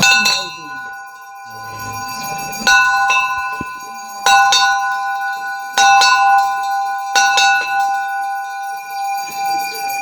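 A large bell in Uttarakhand, linked to Lansdowne, is struck four times at roughly even intervals. Each loud metallic clang rings on with a long shimmering decay that overlaps the next strike.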